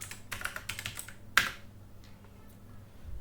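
Quick bursts of clattering keystrokes on a computer keyboard enter a localhost address in a browser during Kubernetes web UI setup, with one louder key press near the middle and fainter taps afterward.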